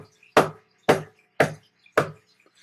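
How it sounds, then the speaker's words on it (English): Four heavy thumps land on a wooden door at a steady, evenly spaced rhythm, each one sharp and loud, close by, with silence between. "she heard a thump on the door"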